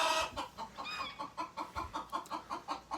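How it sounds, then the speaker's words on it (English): Chickens cluck in a quick, steady rhythm, close by, with a brief squawk at the start. "Chickens."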